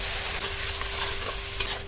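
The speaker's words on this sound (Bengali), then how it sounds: "মশলাটা দেওয়ার পরে মিডিয়াম ফ্লেমে কষিয়ে নেব যতক্ষণ না মশলা থেকে তেল ছেড়ে দিচ্ছে" Spice mixture frying with softened tomato in a pan on medium flame, a loud, continuous close sizzle with a brief clink of the spoon near the end.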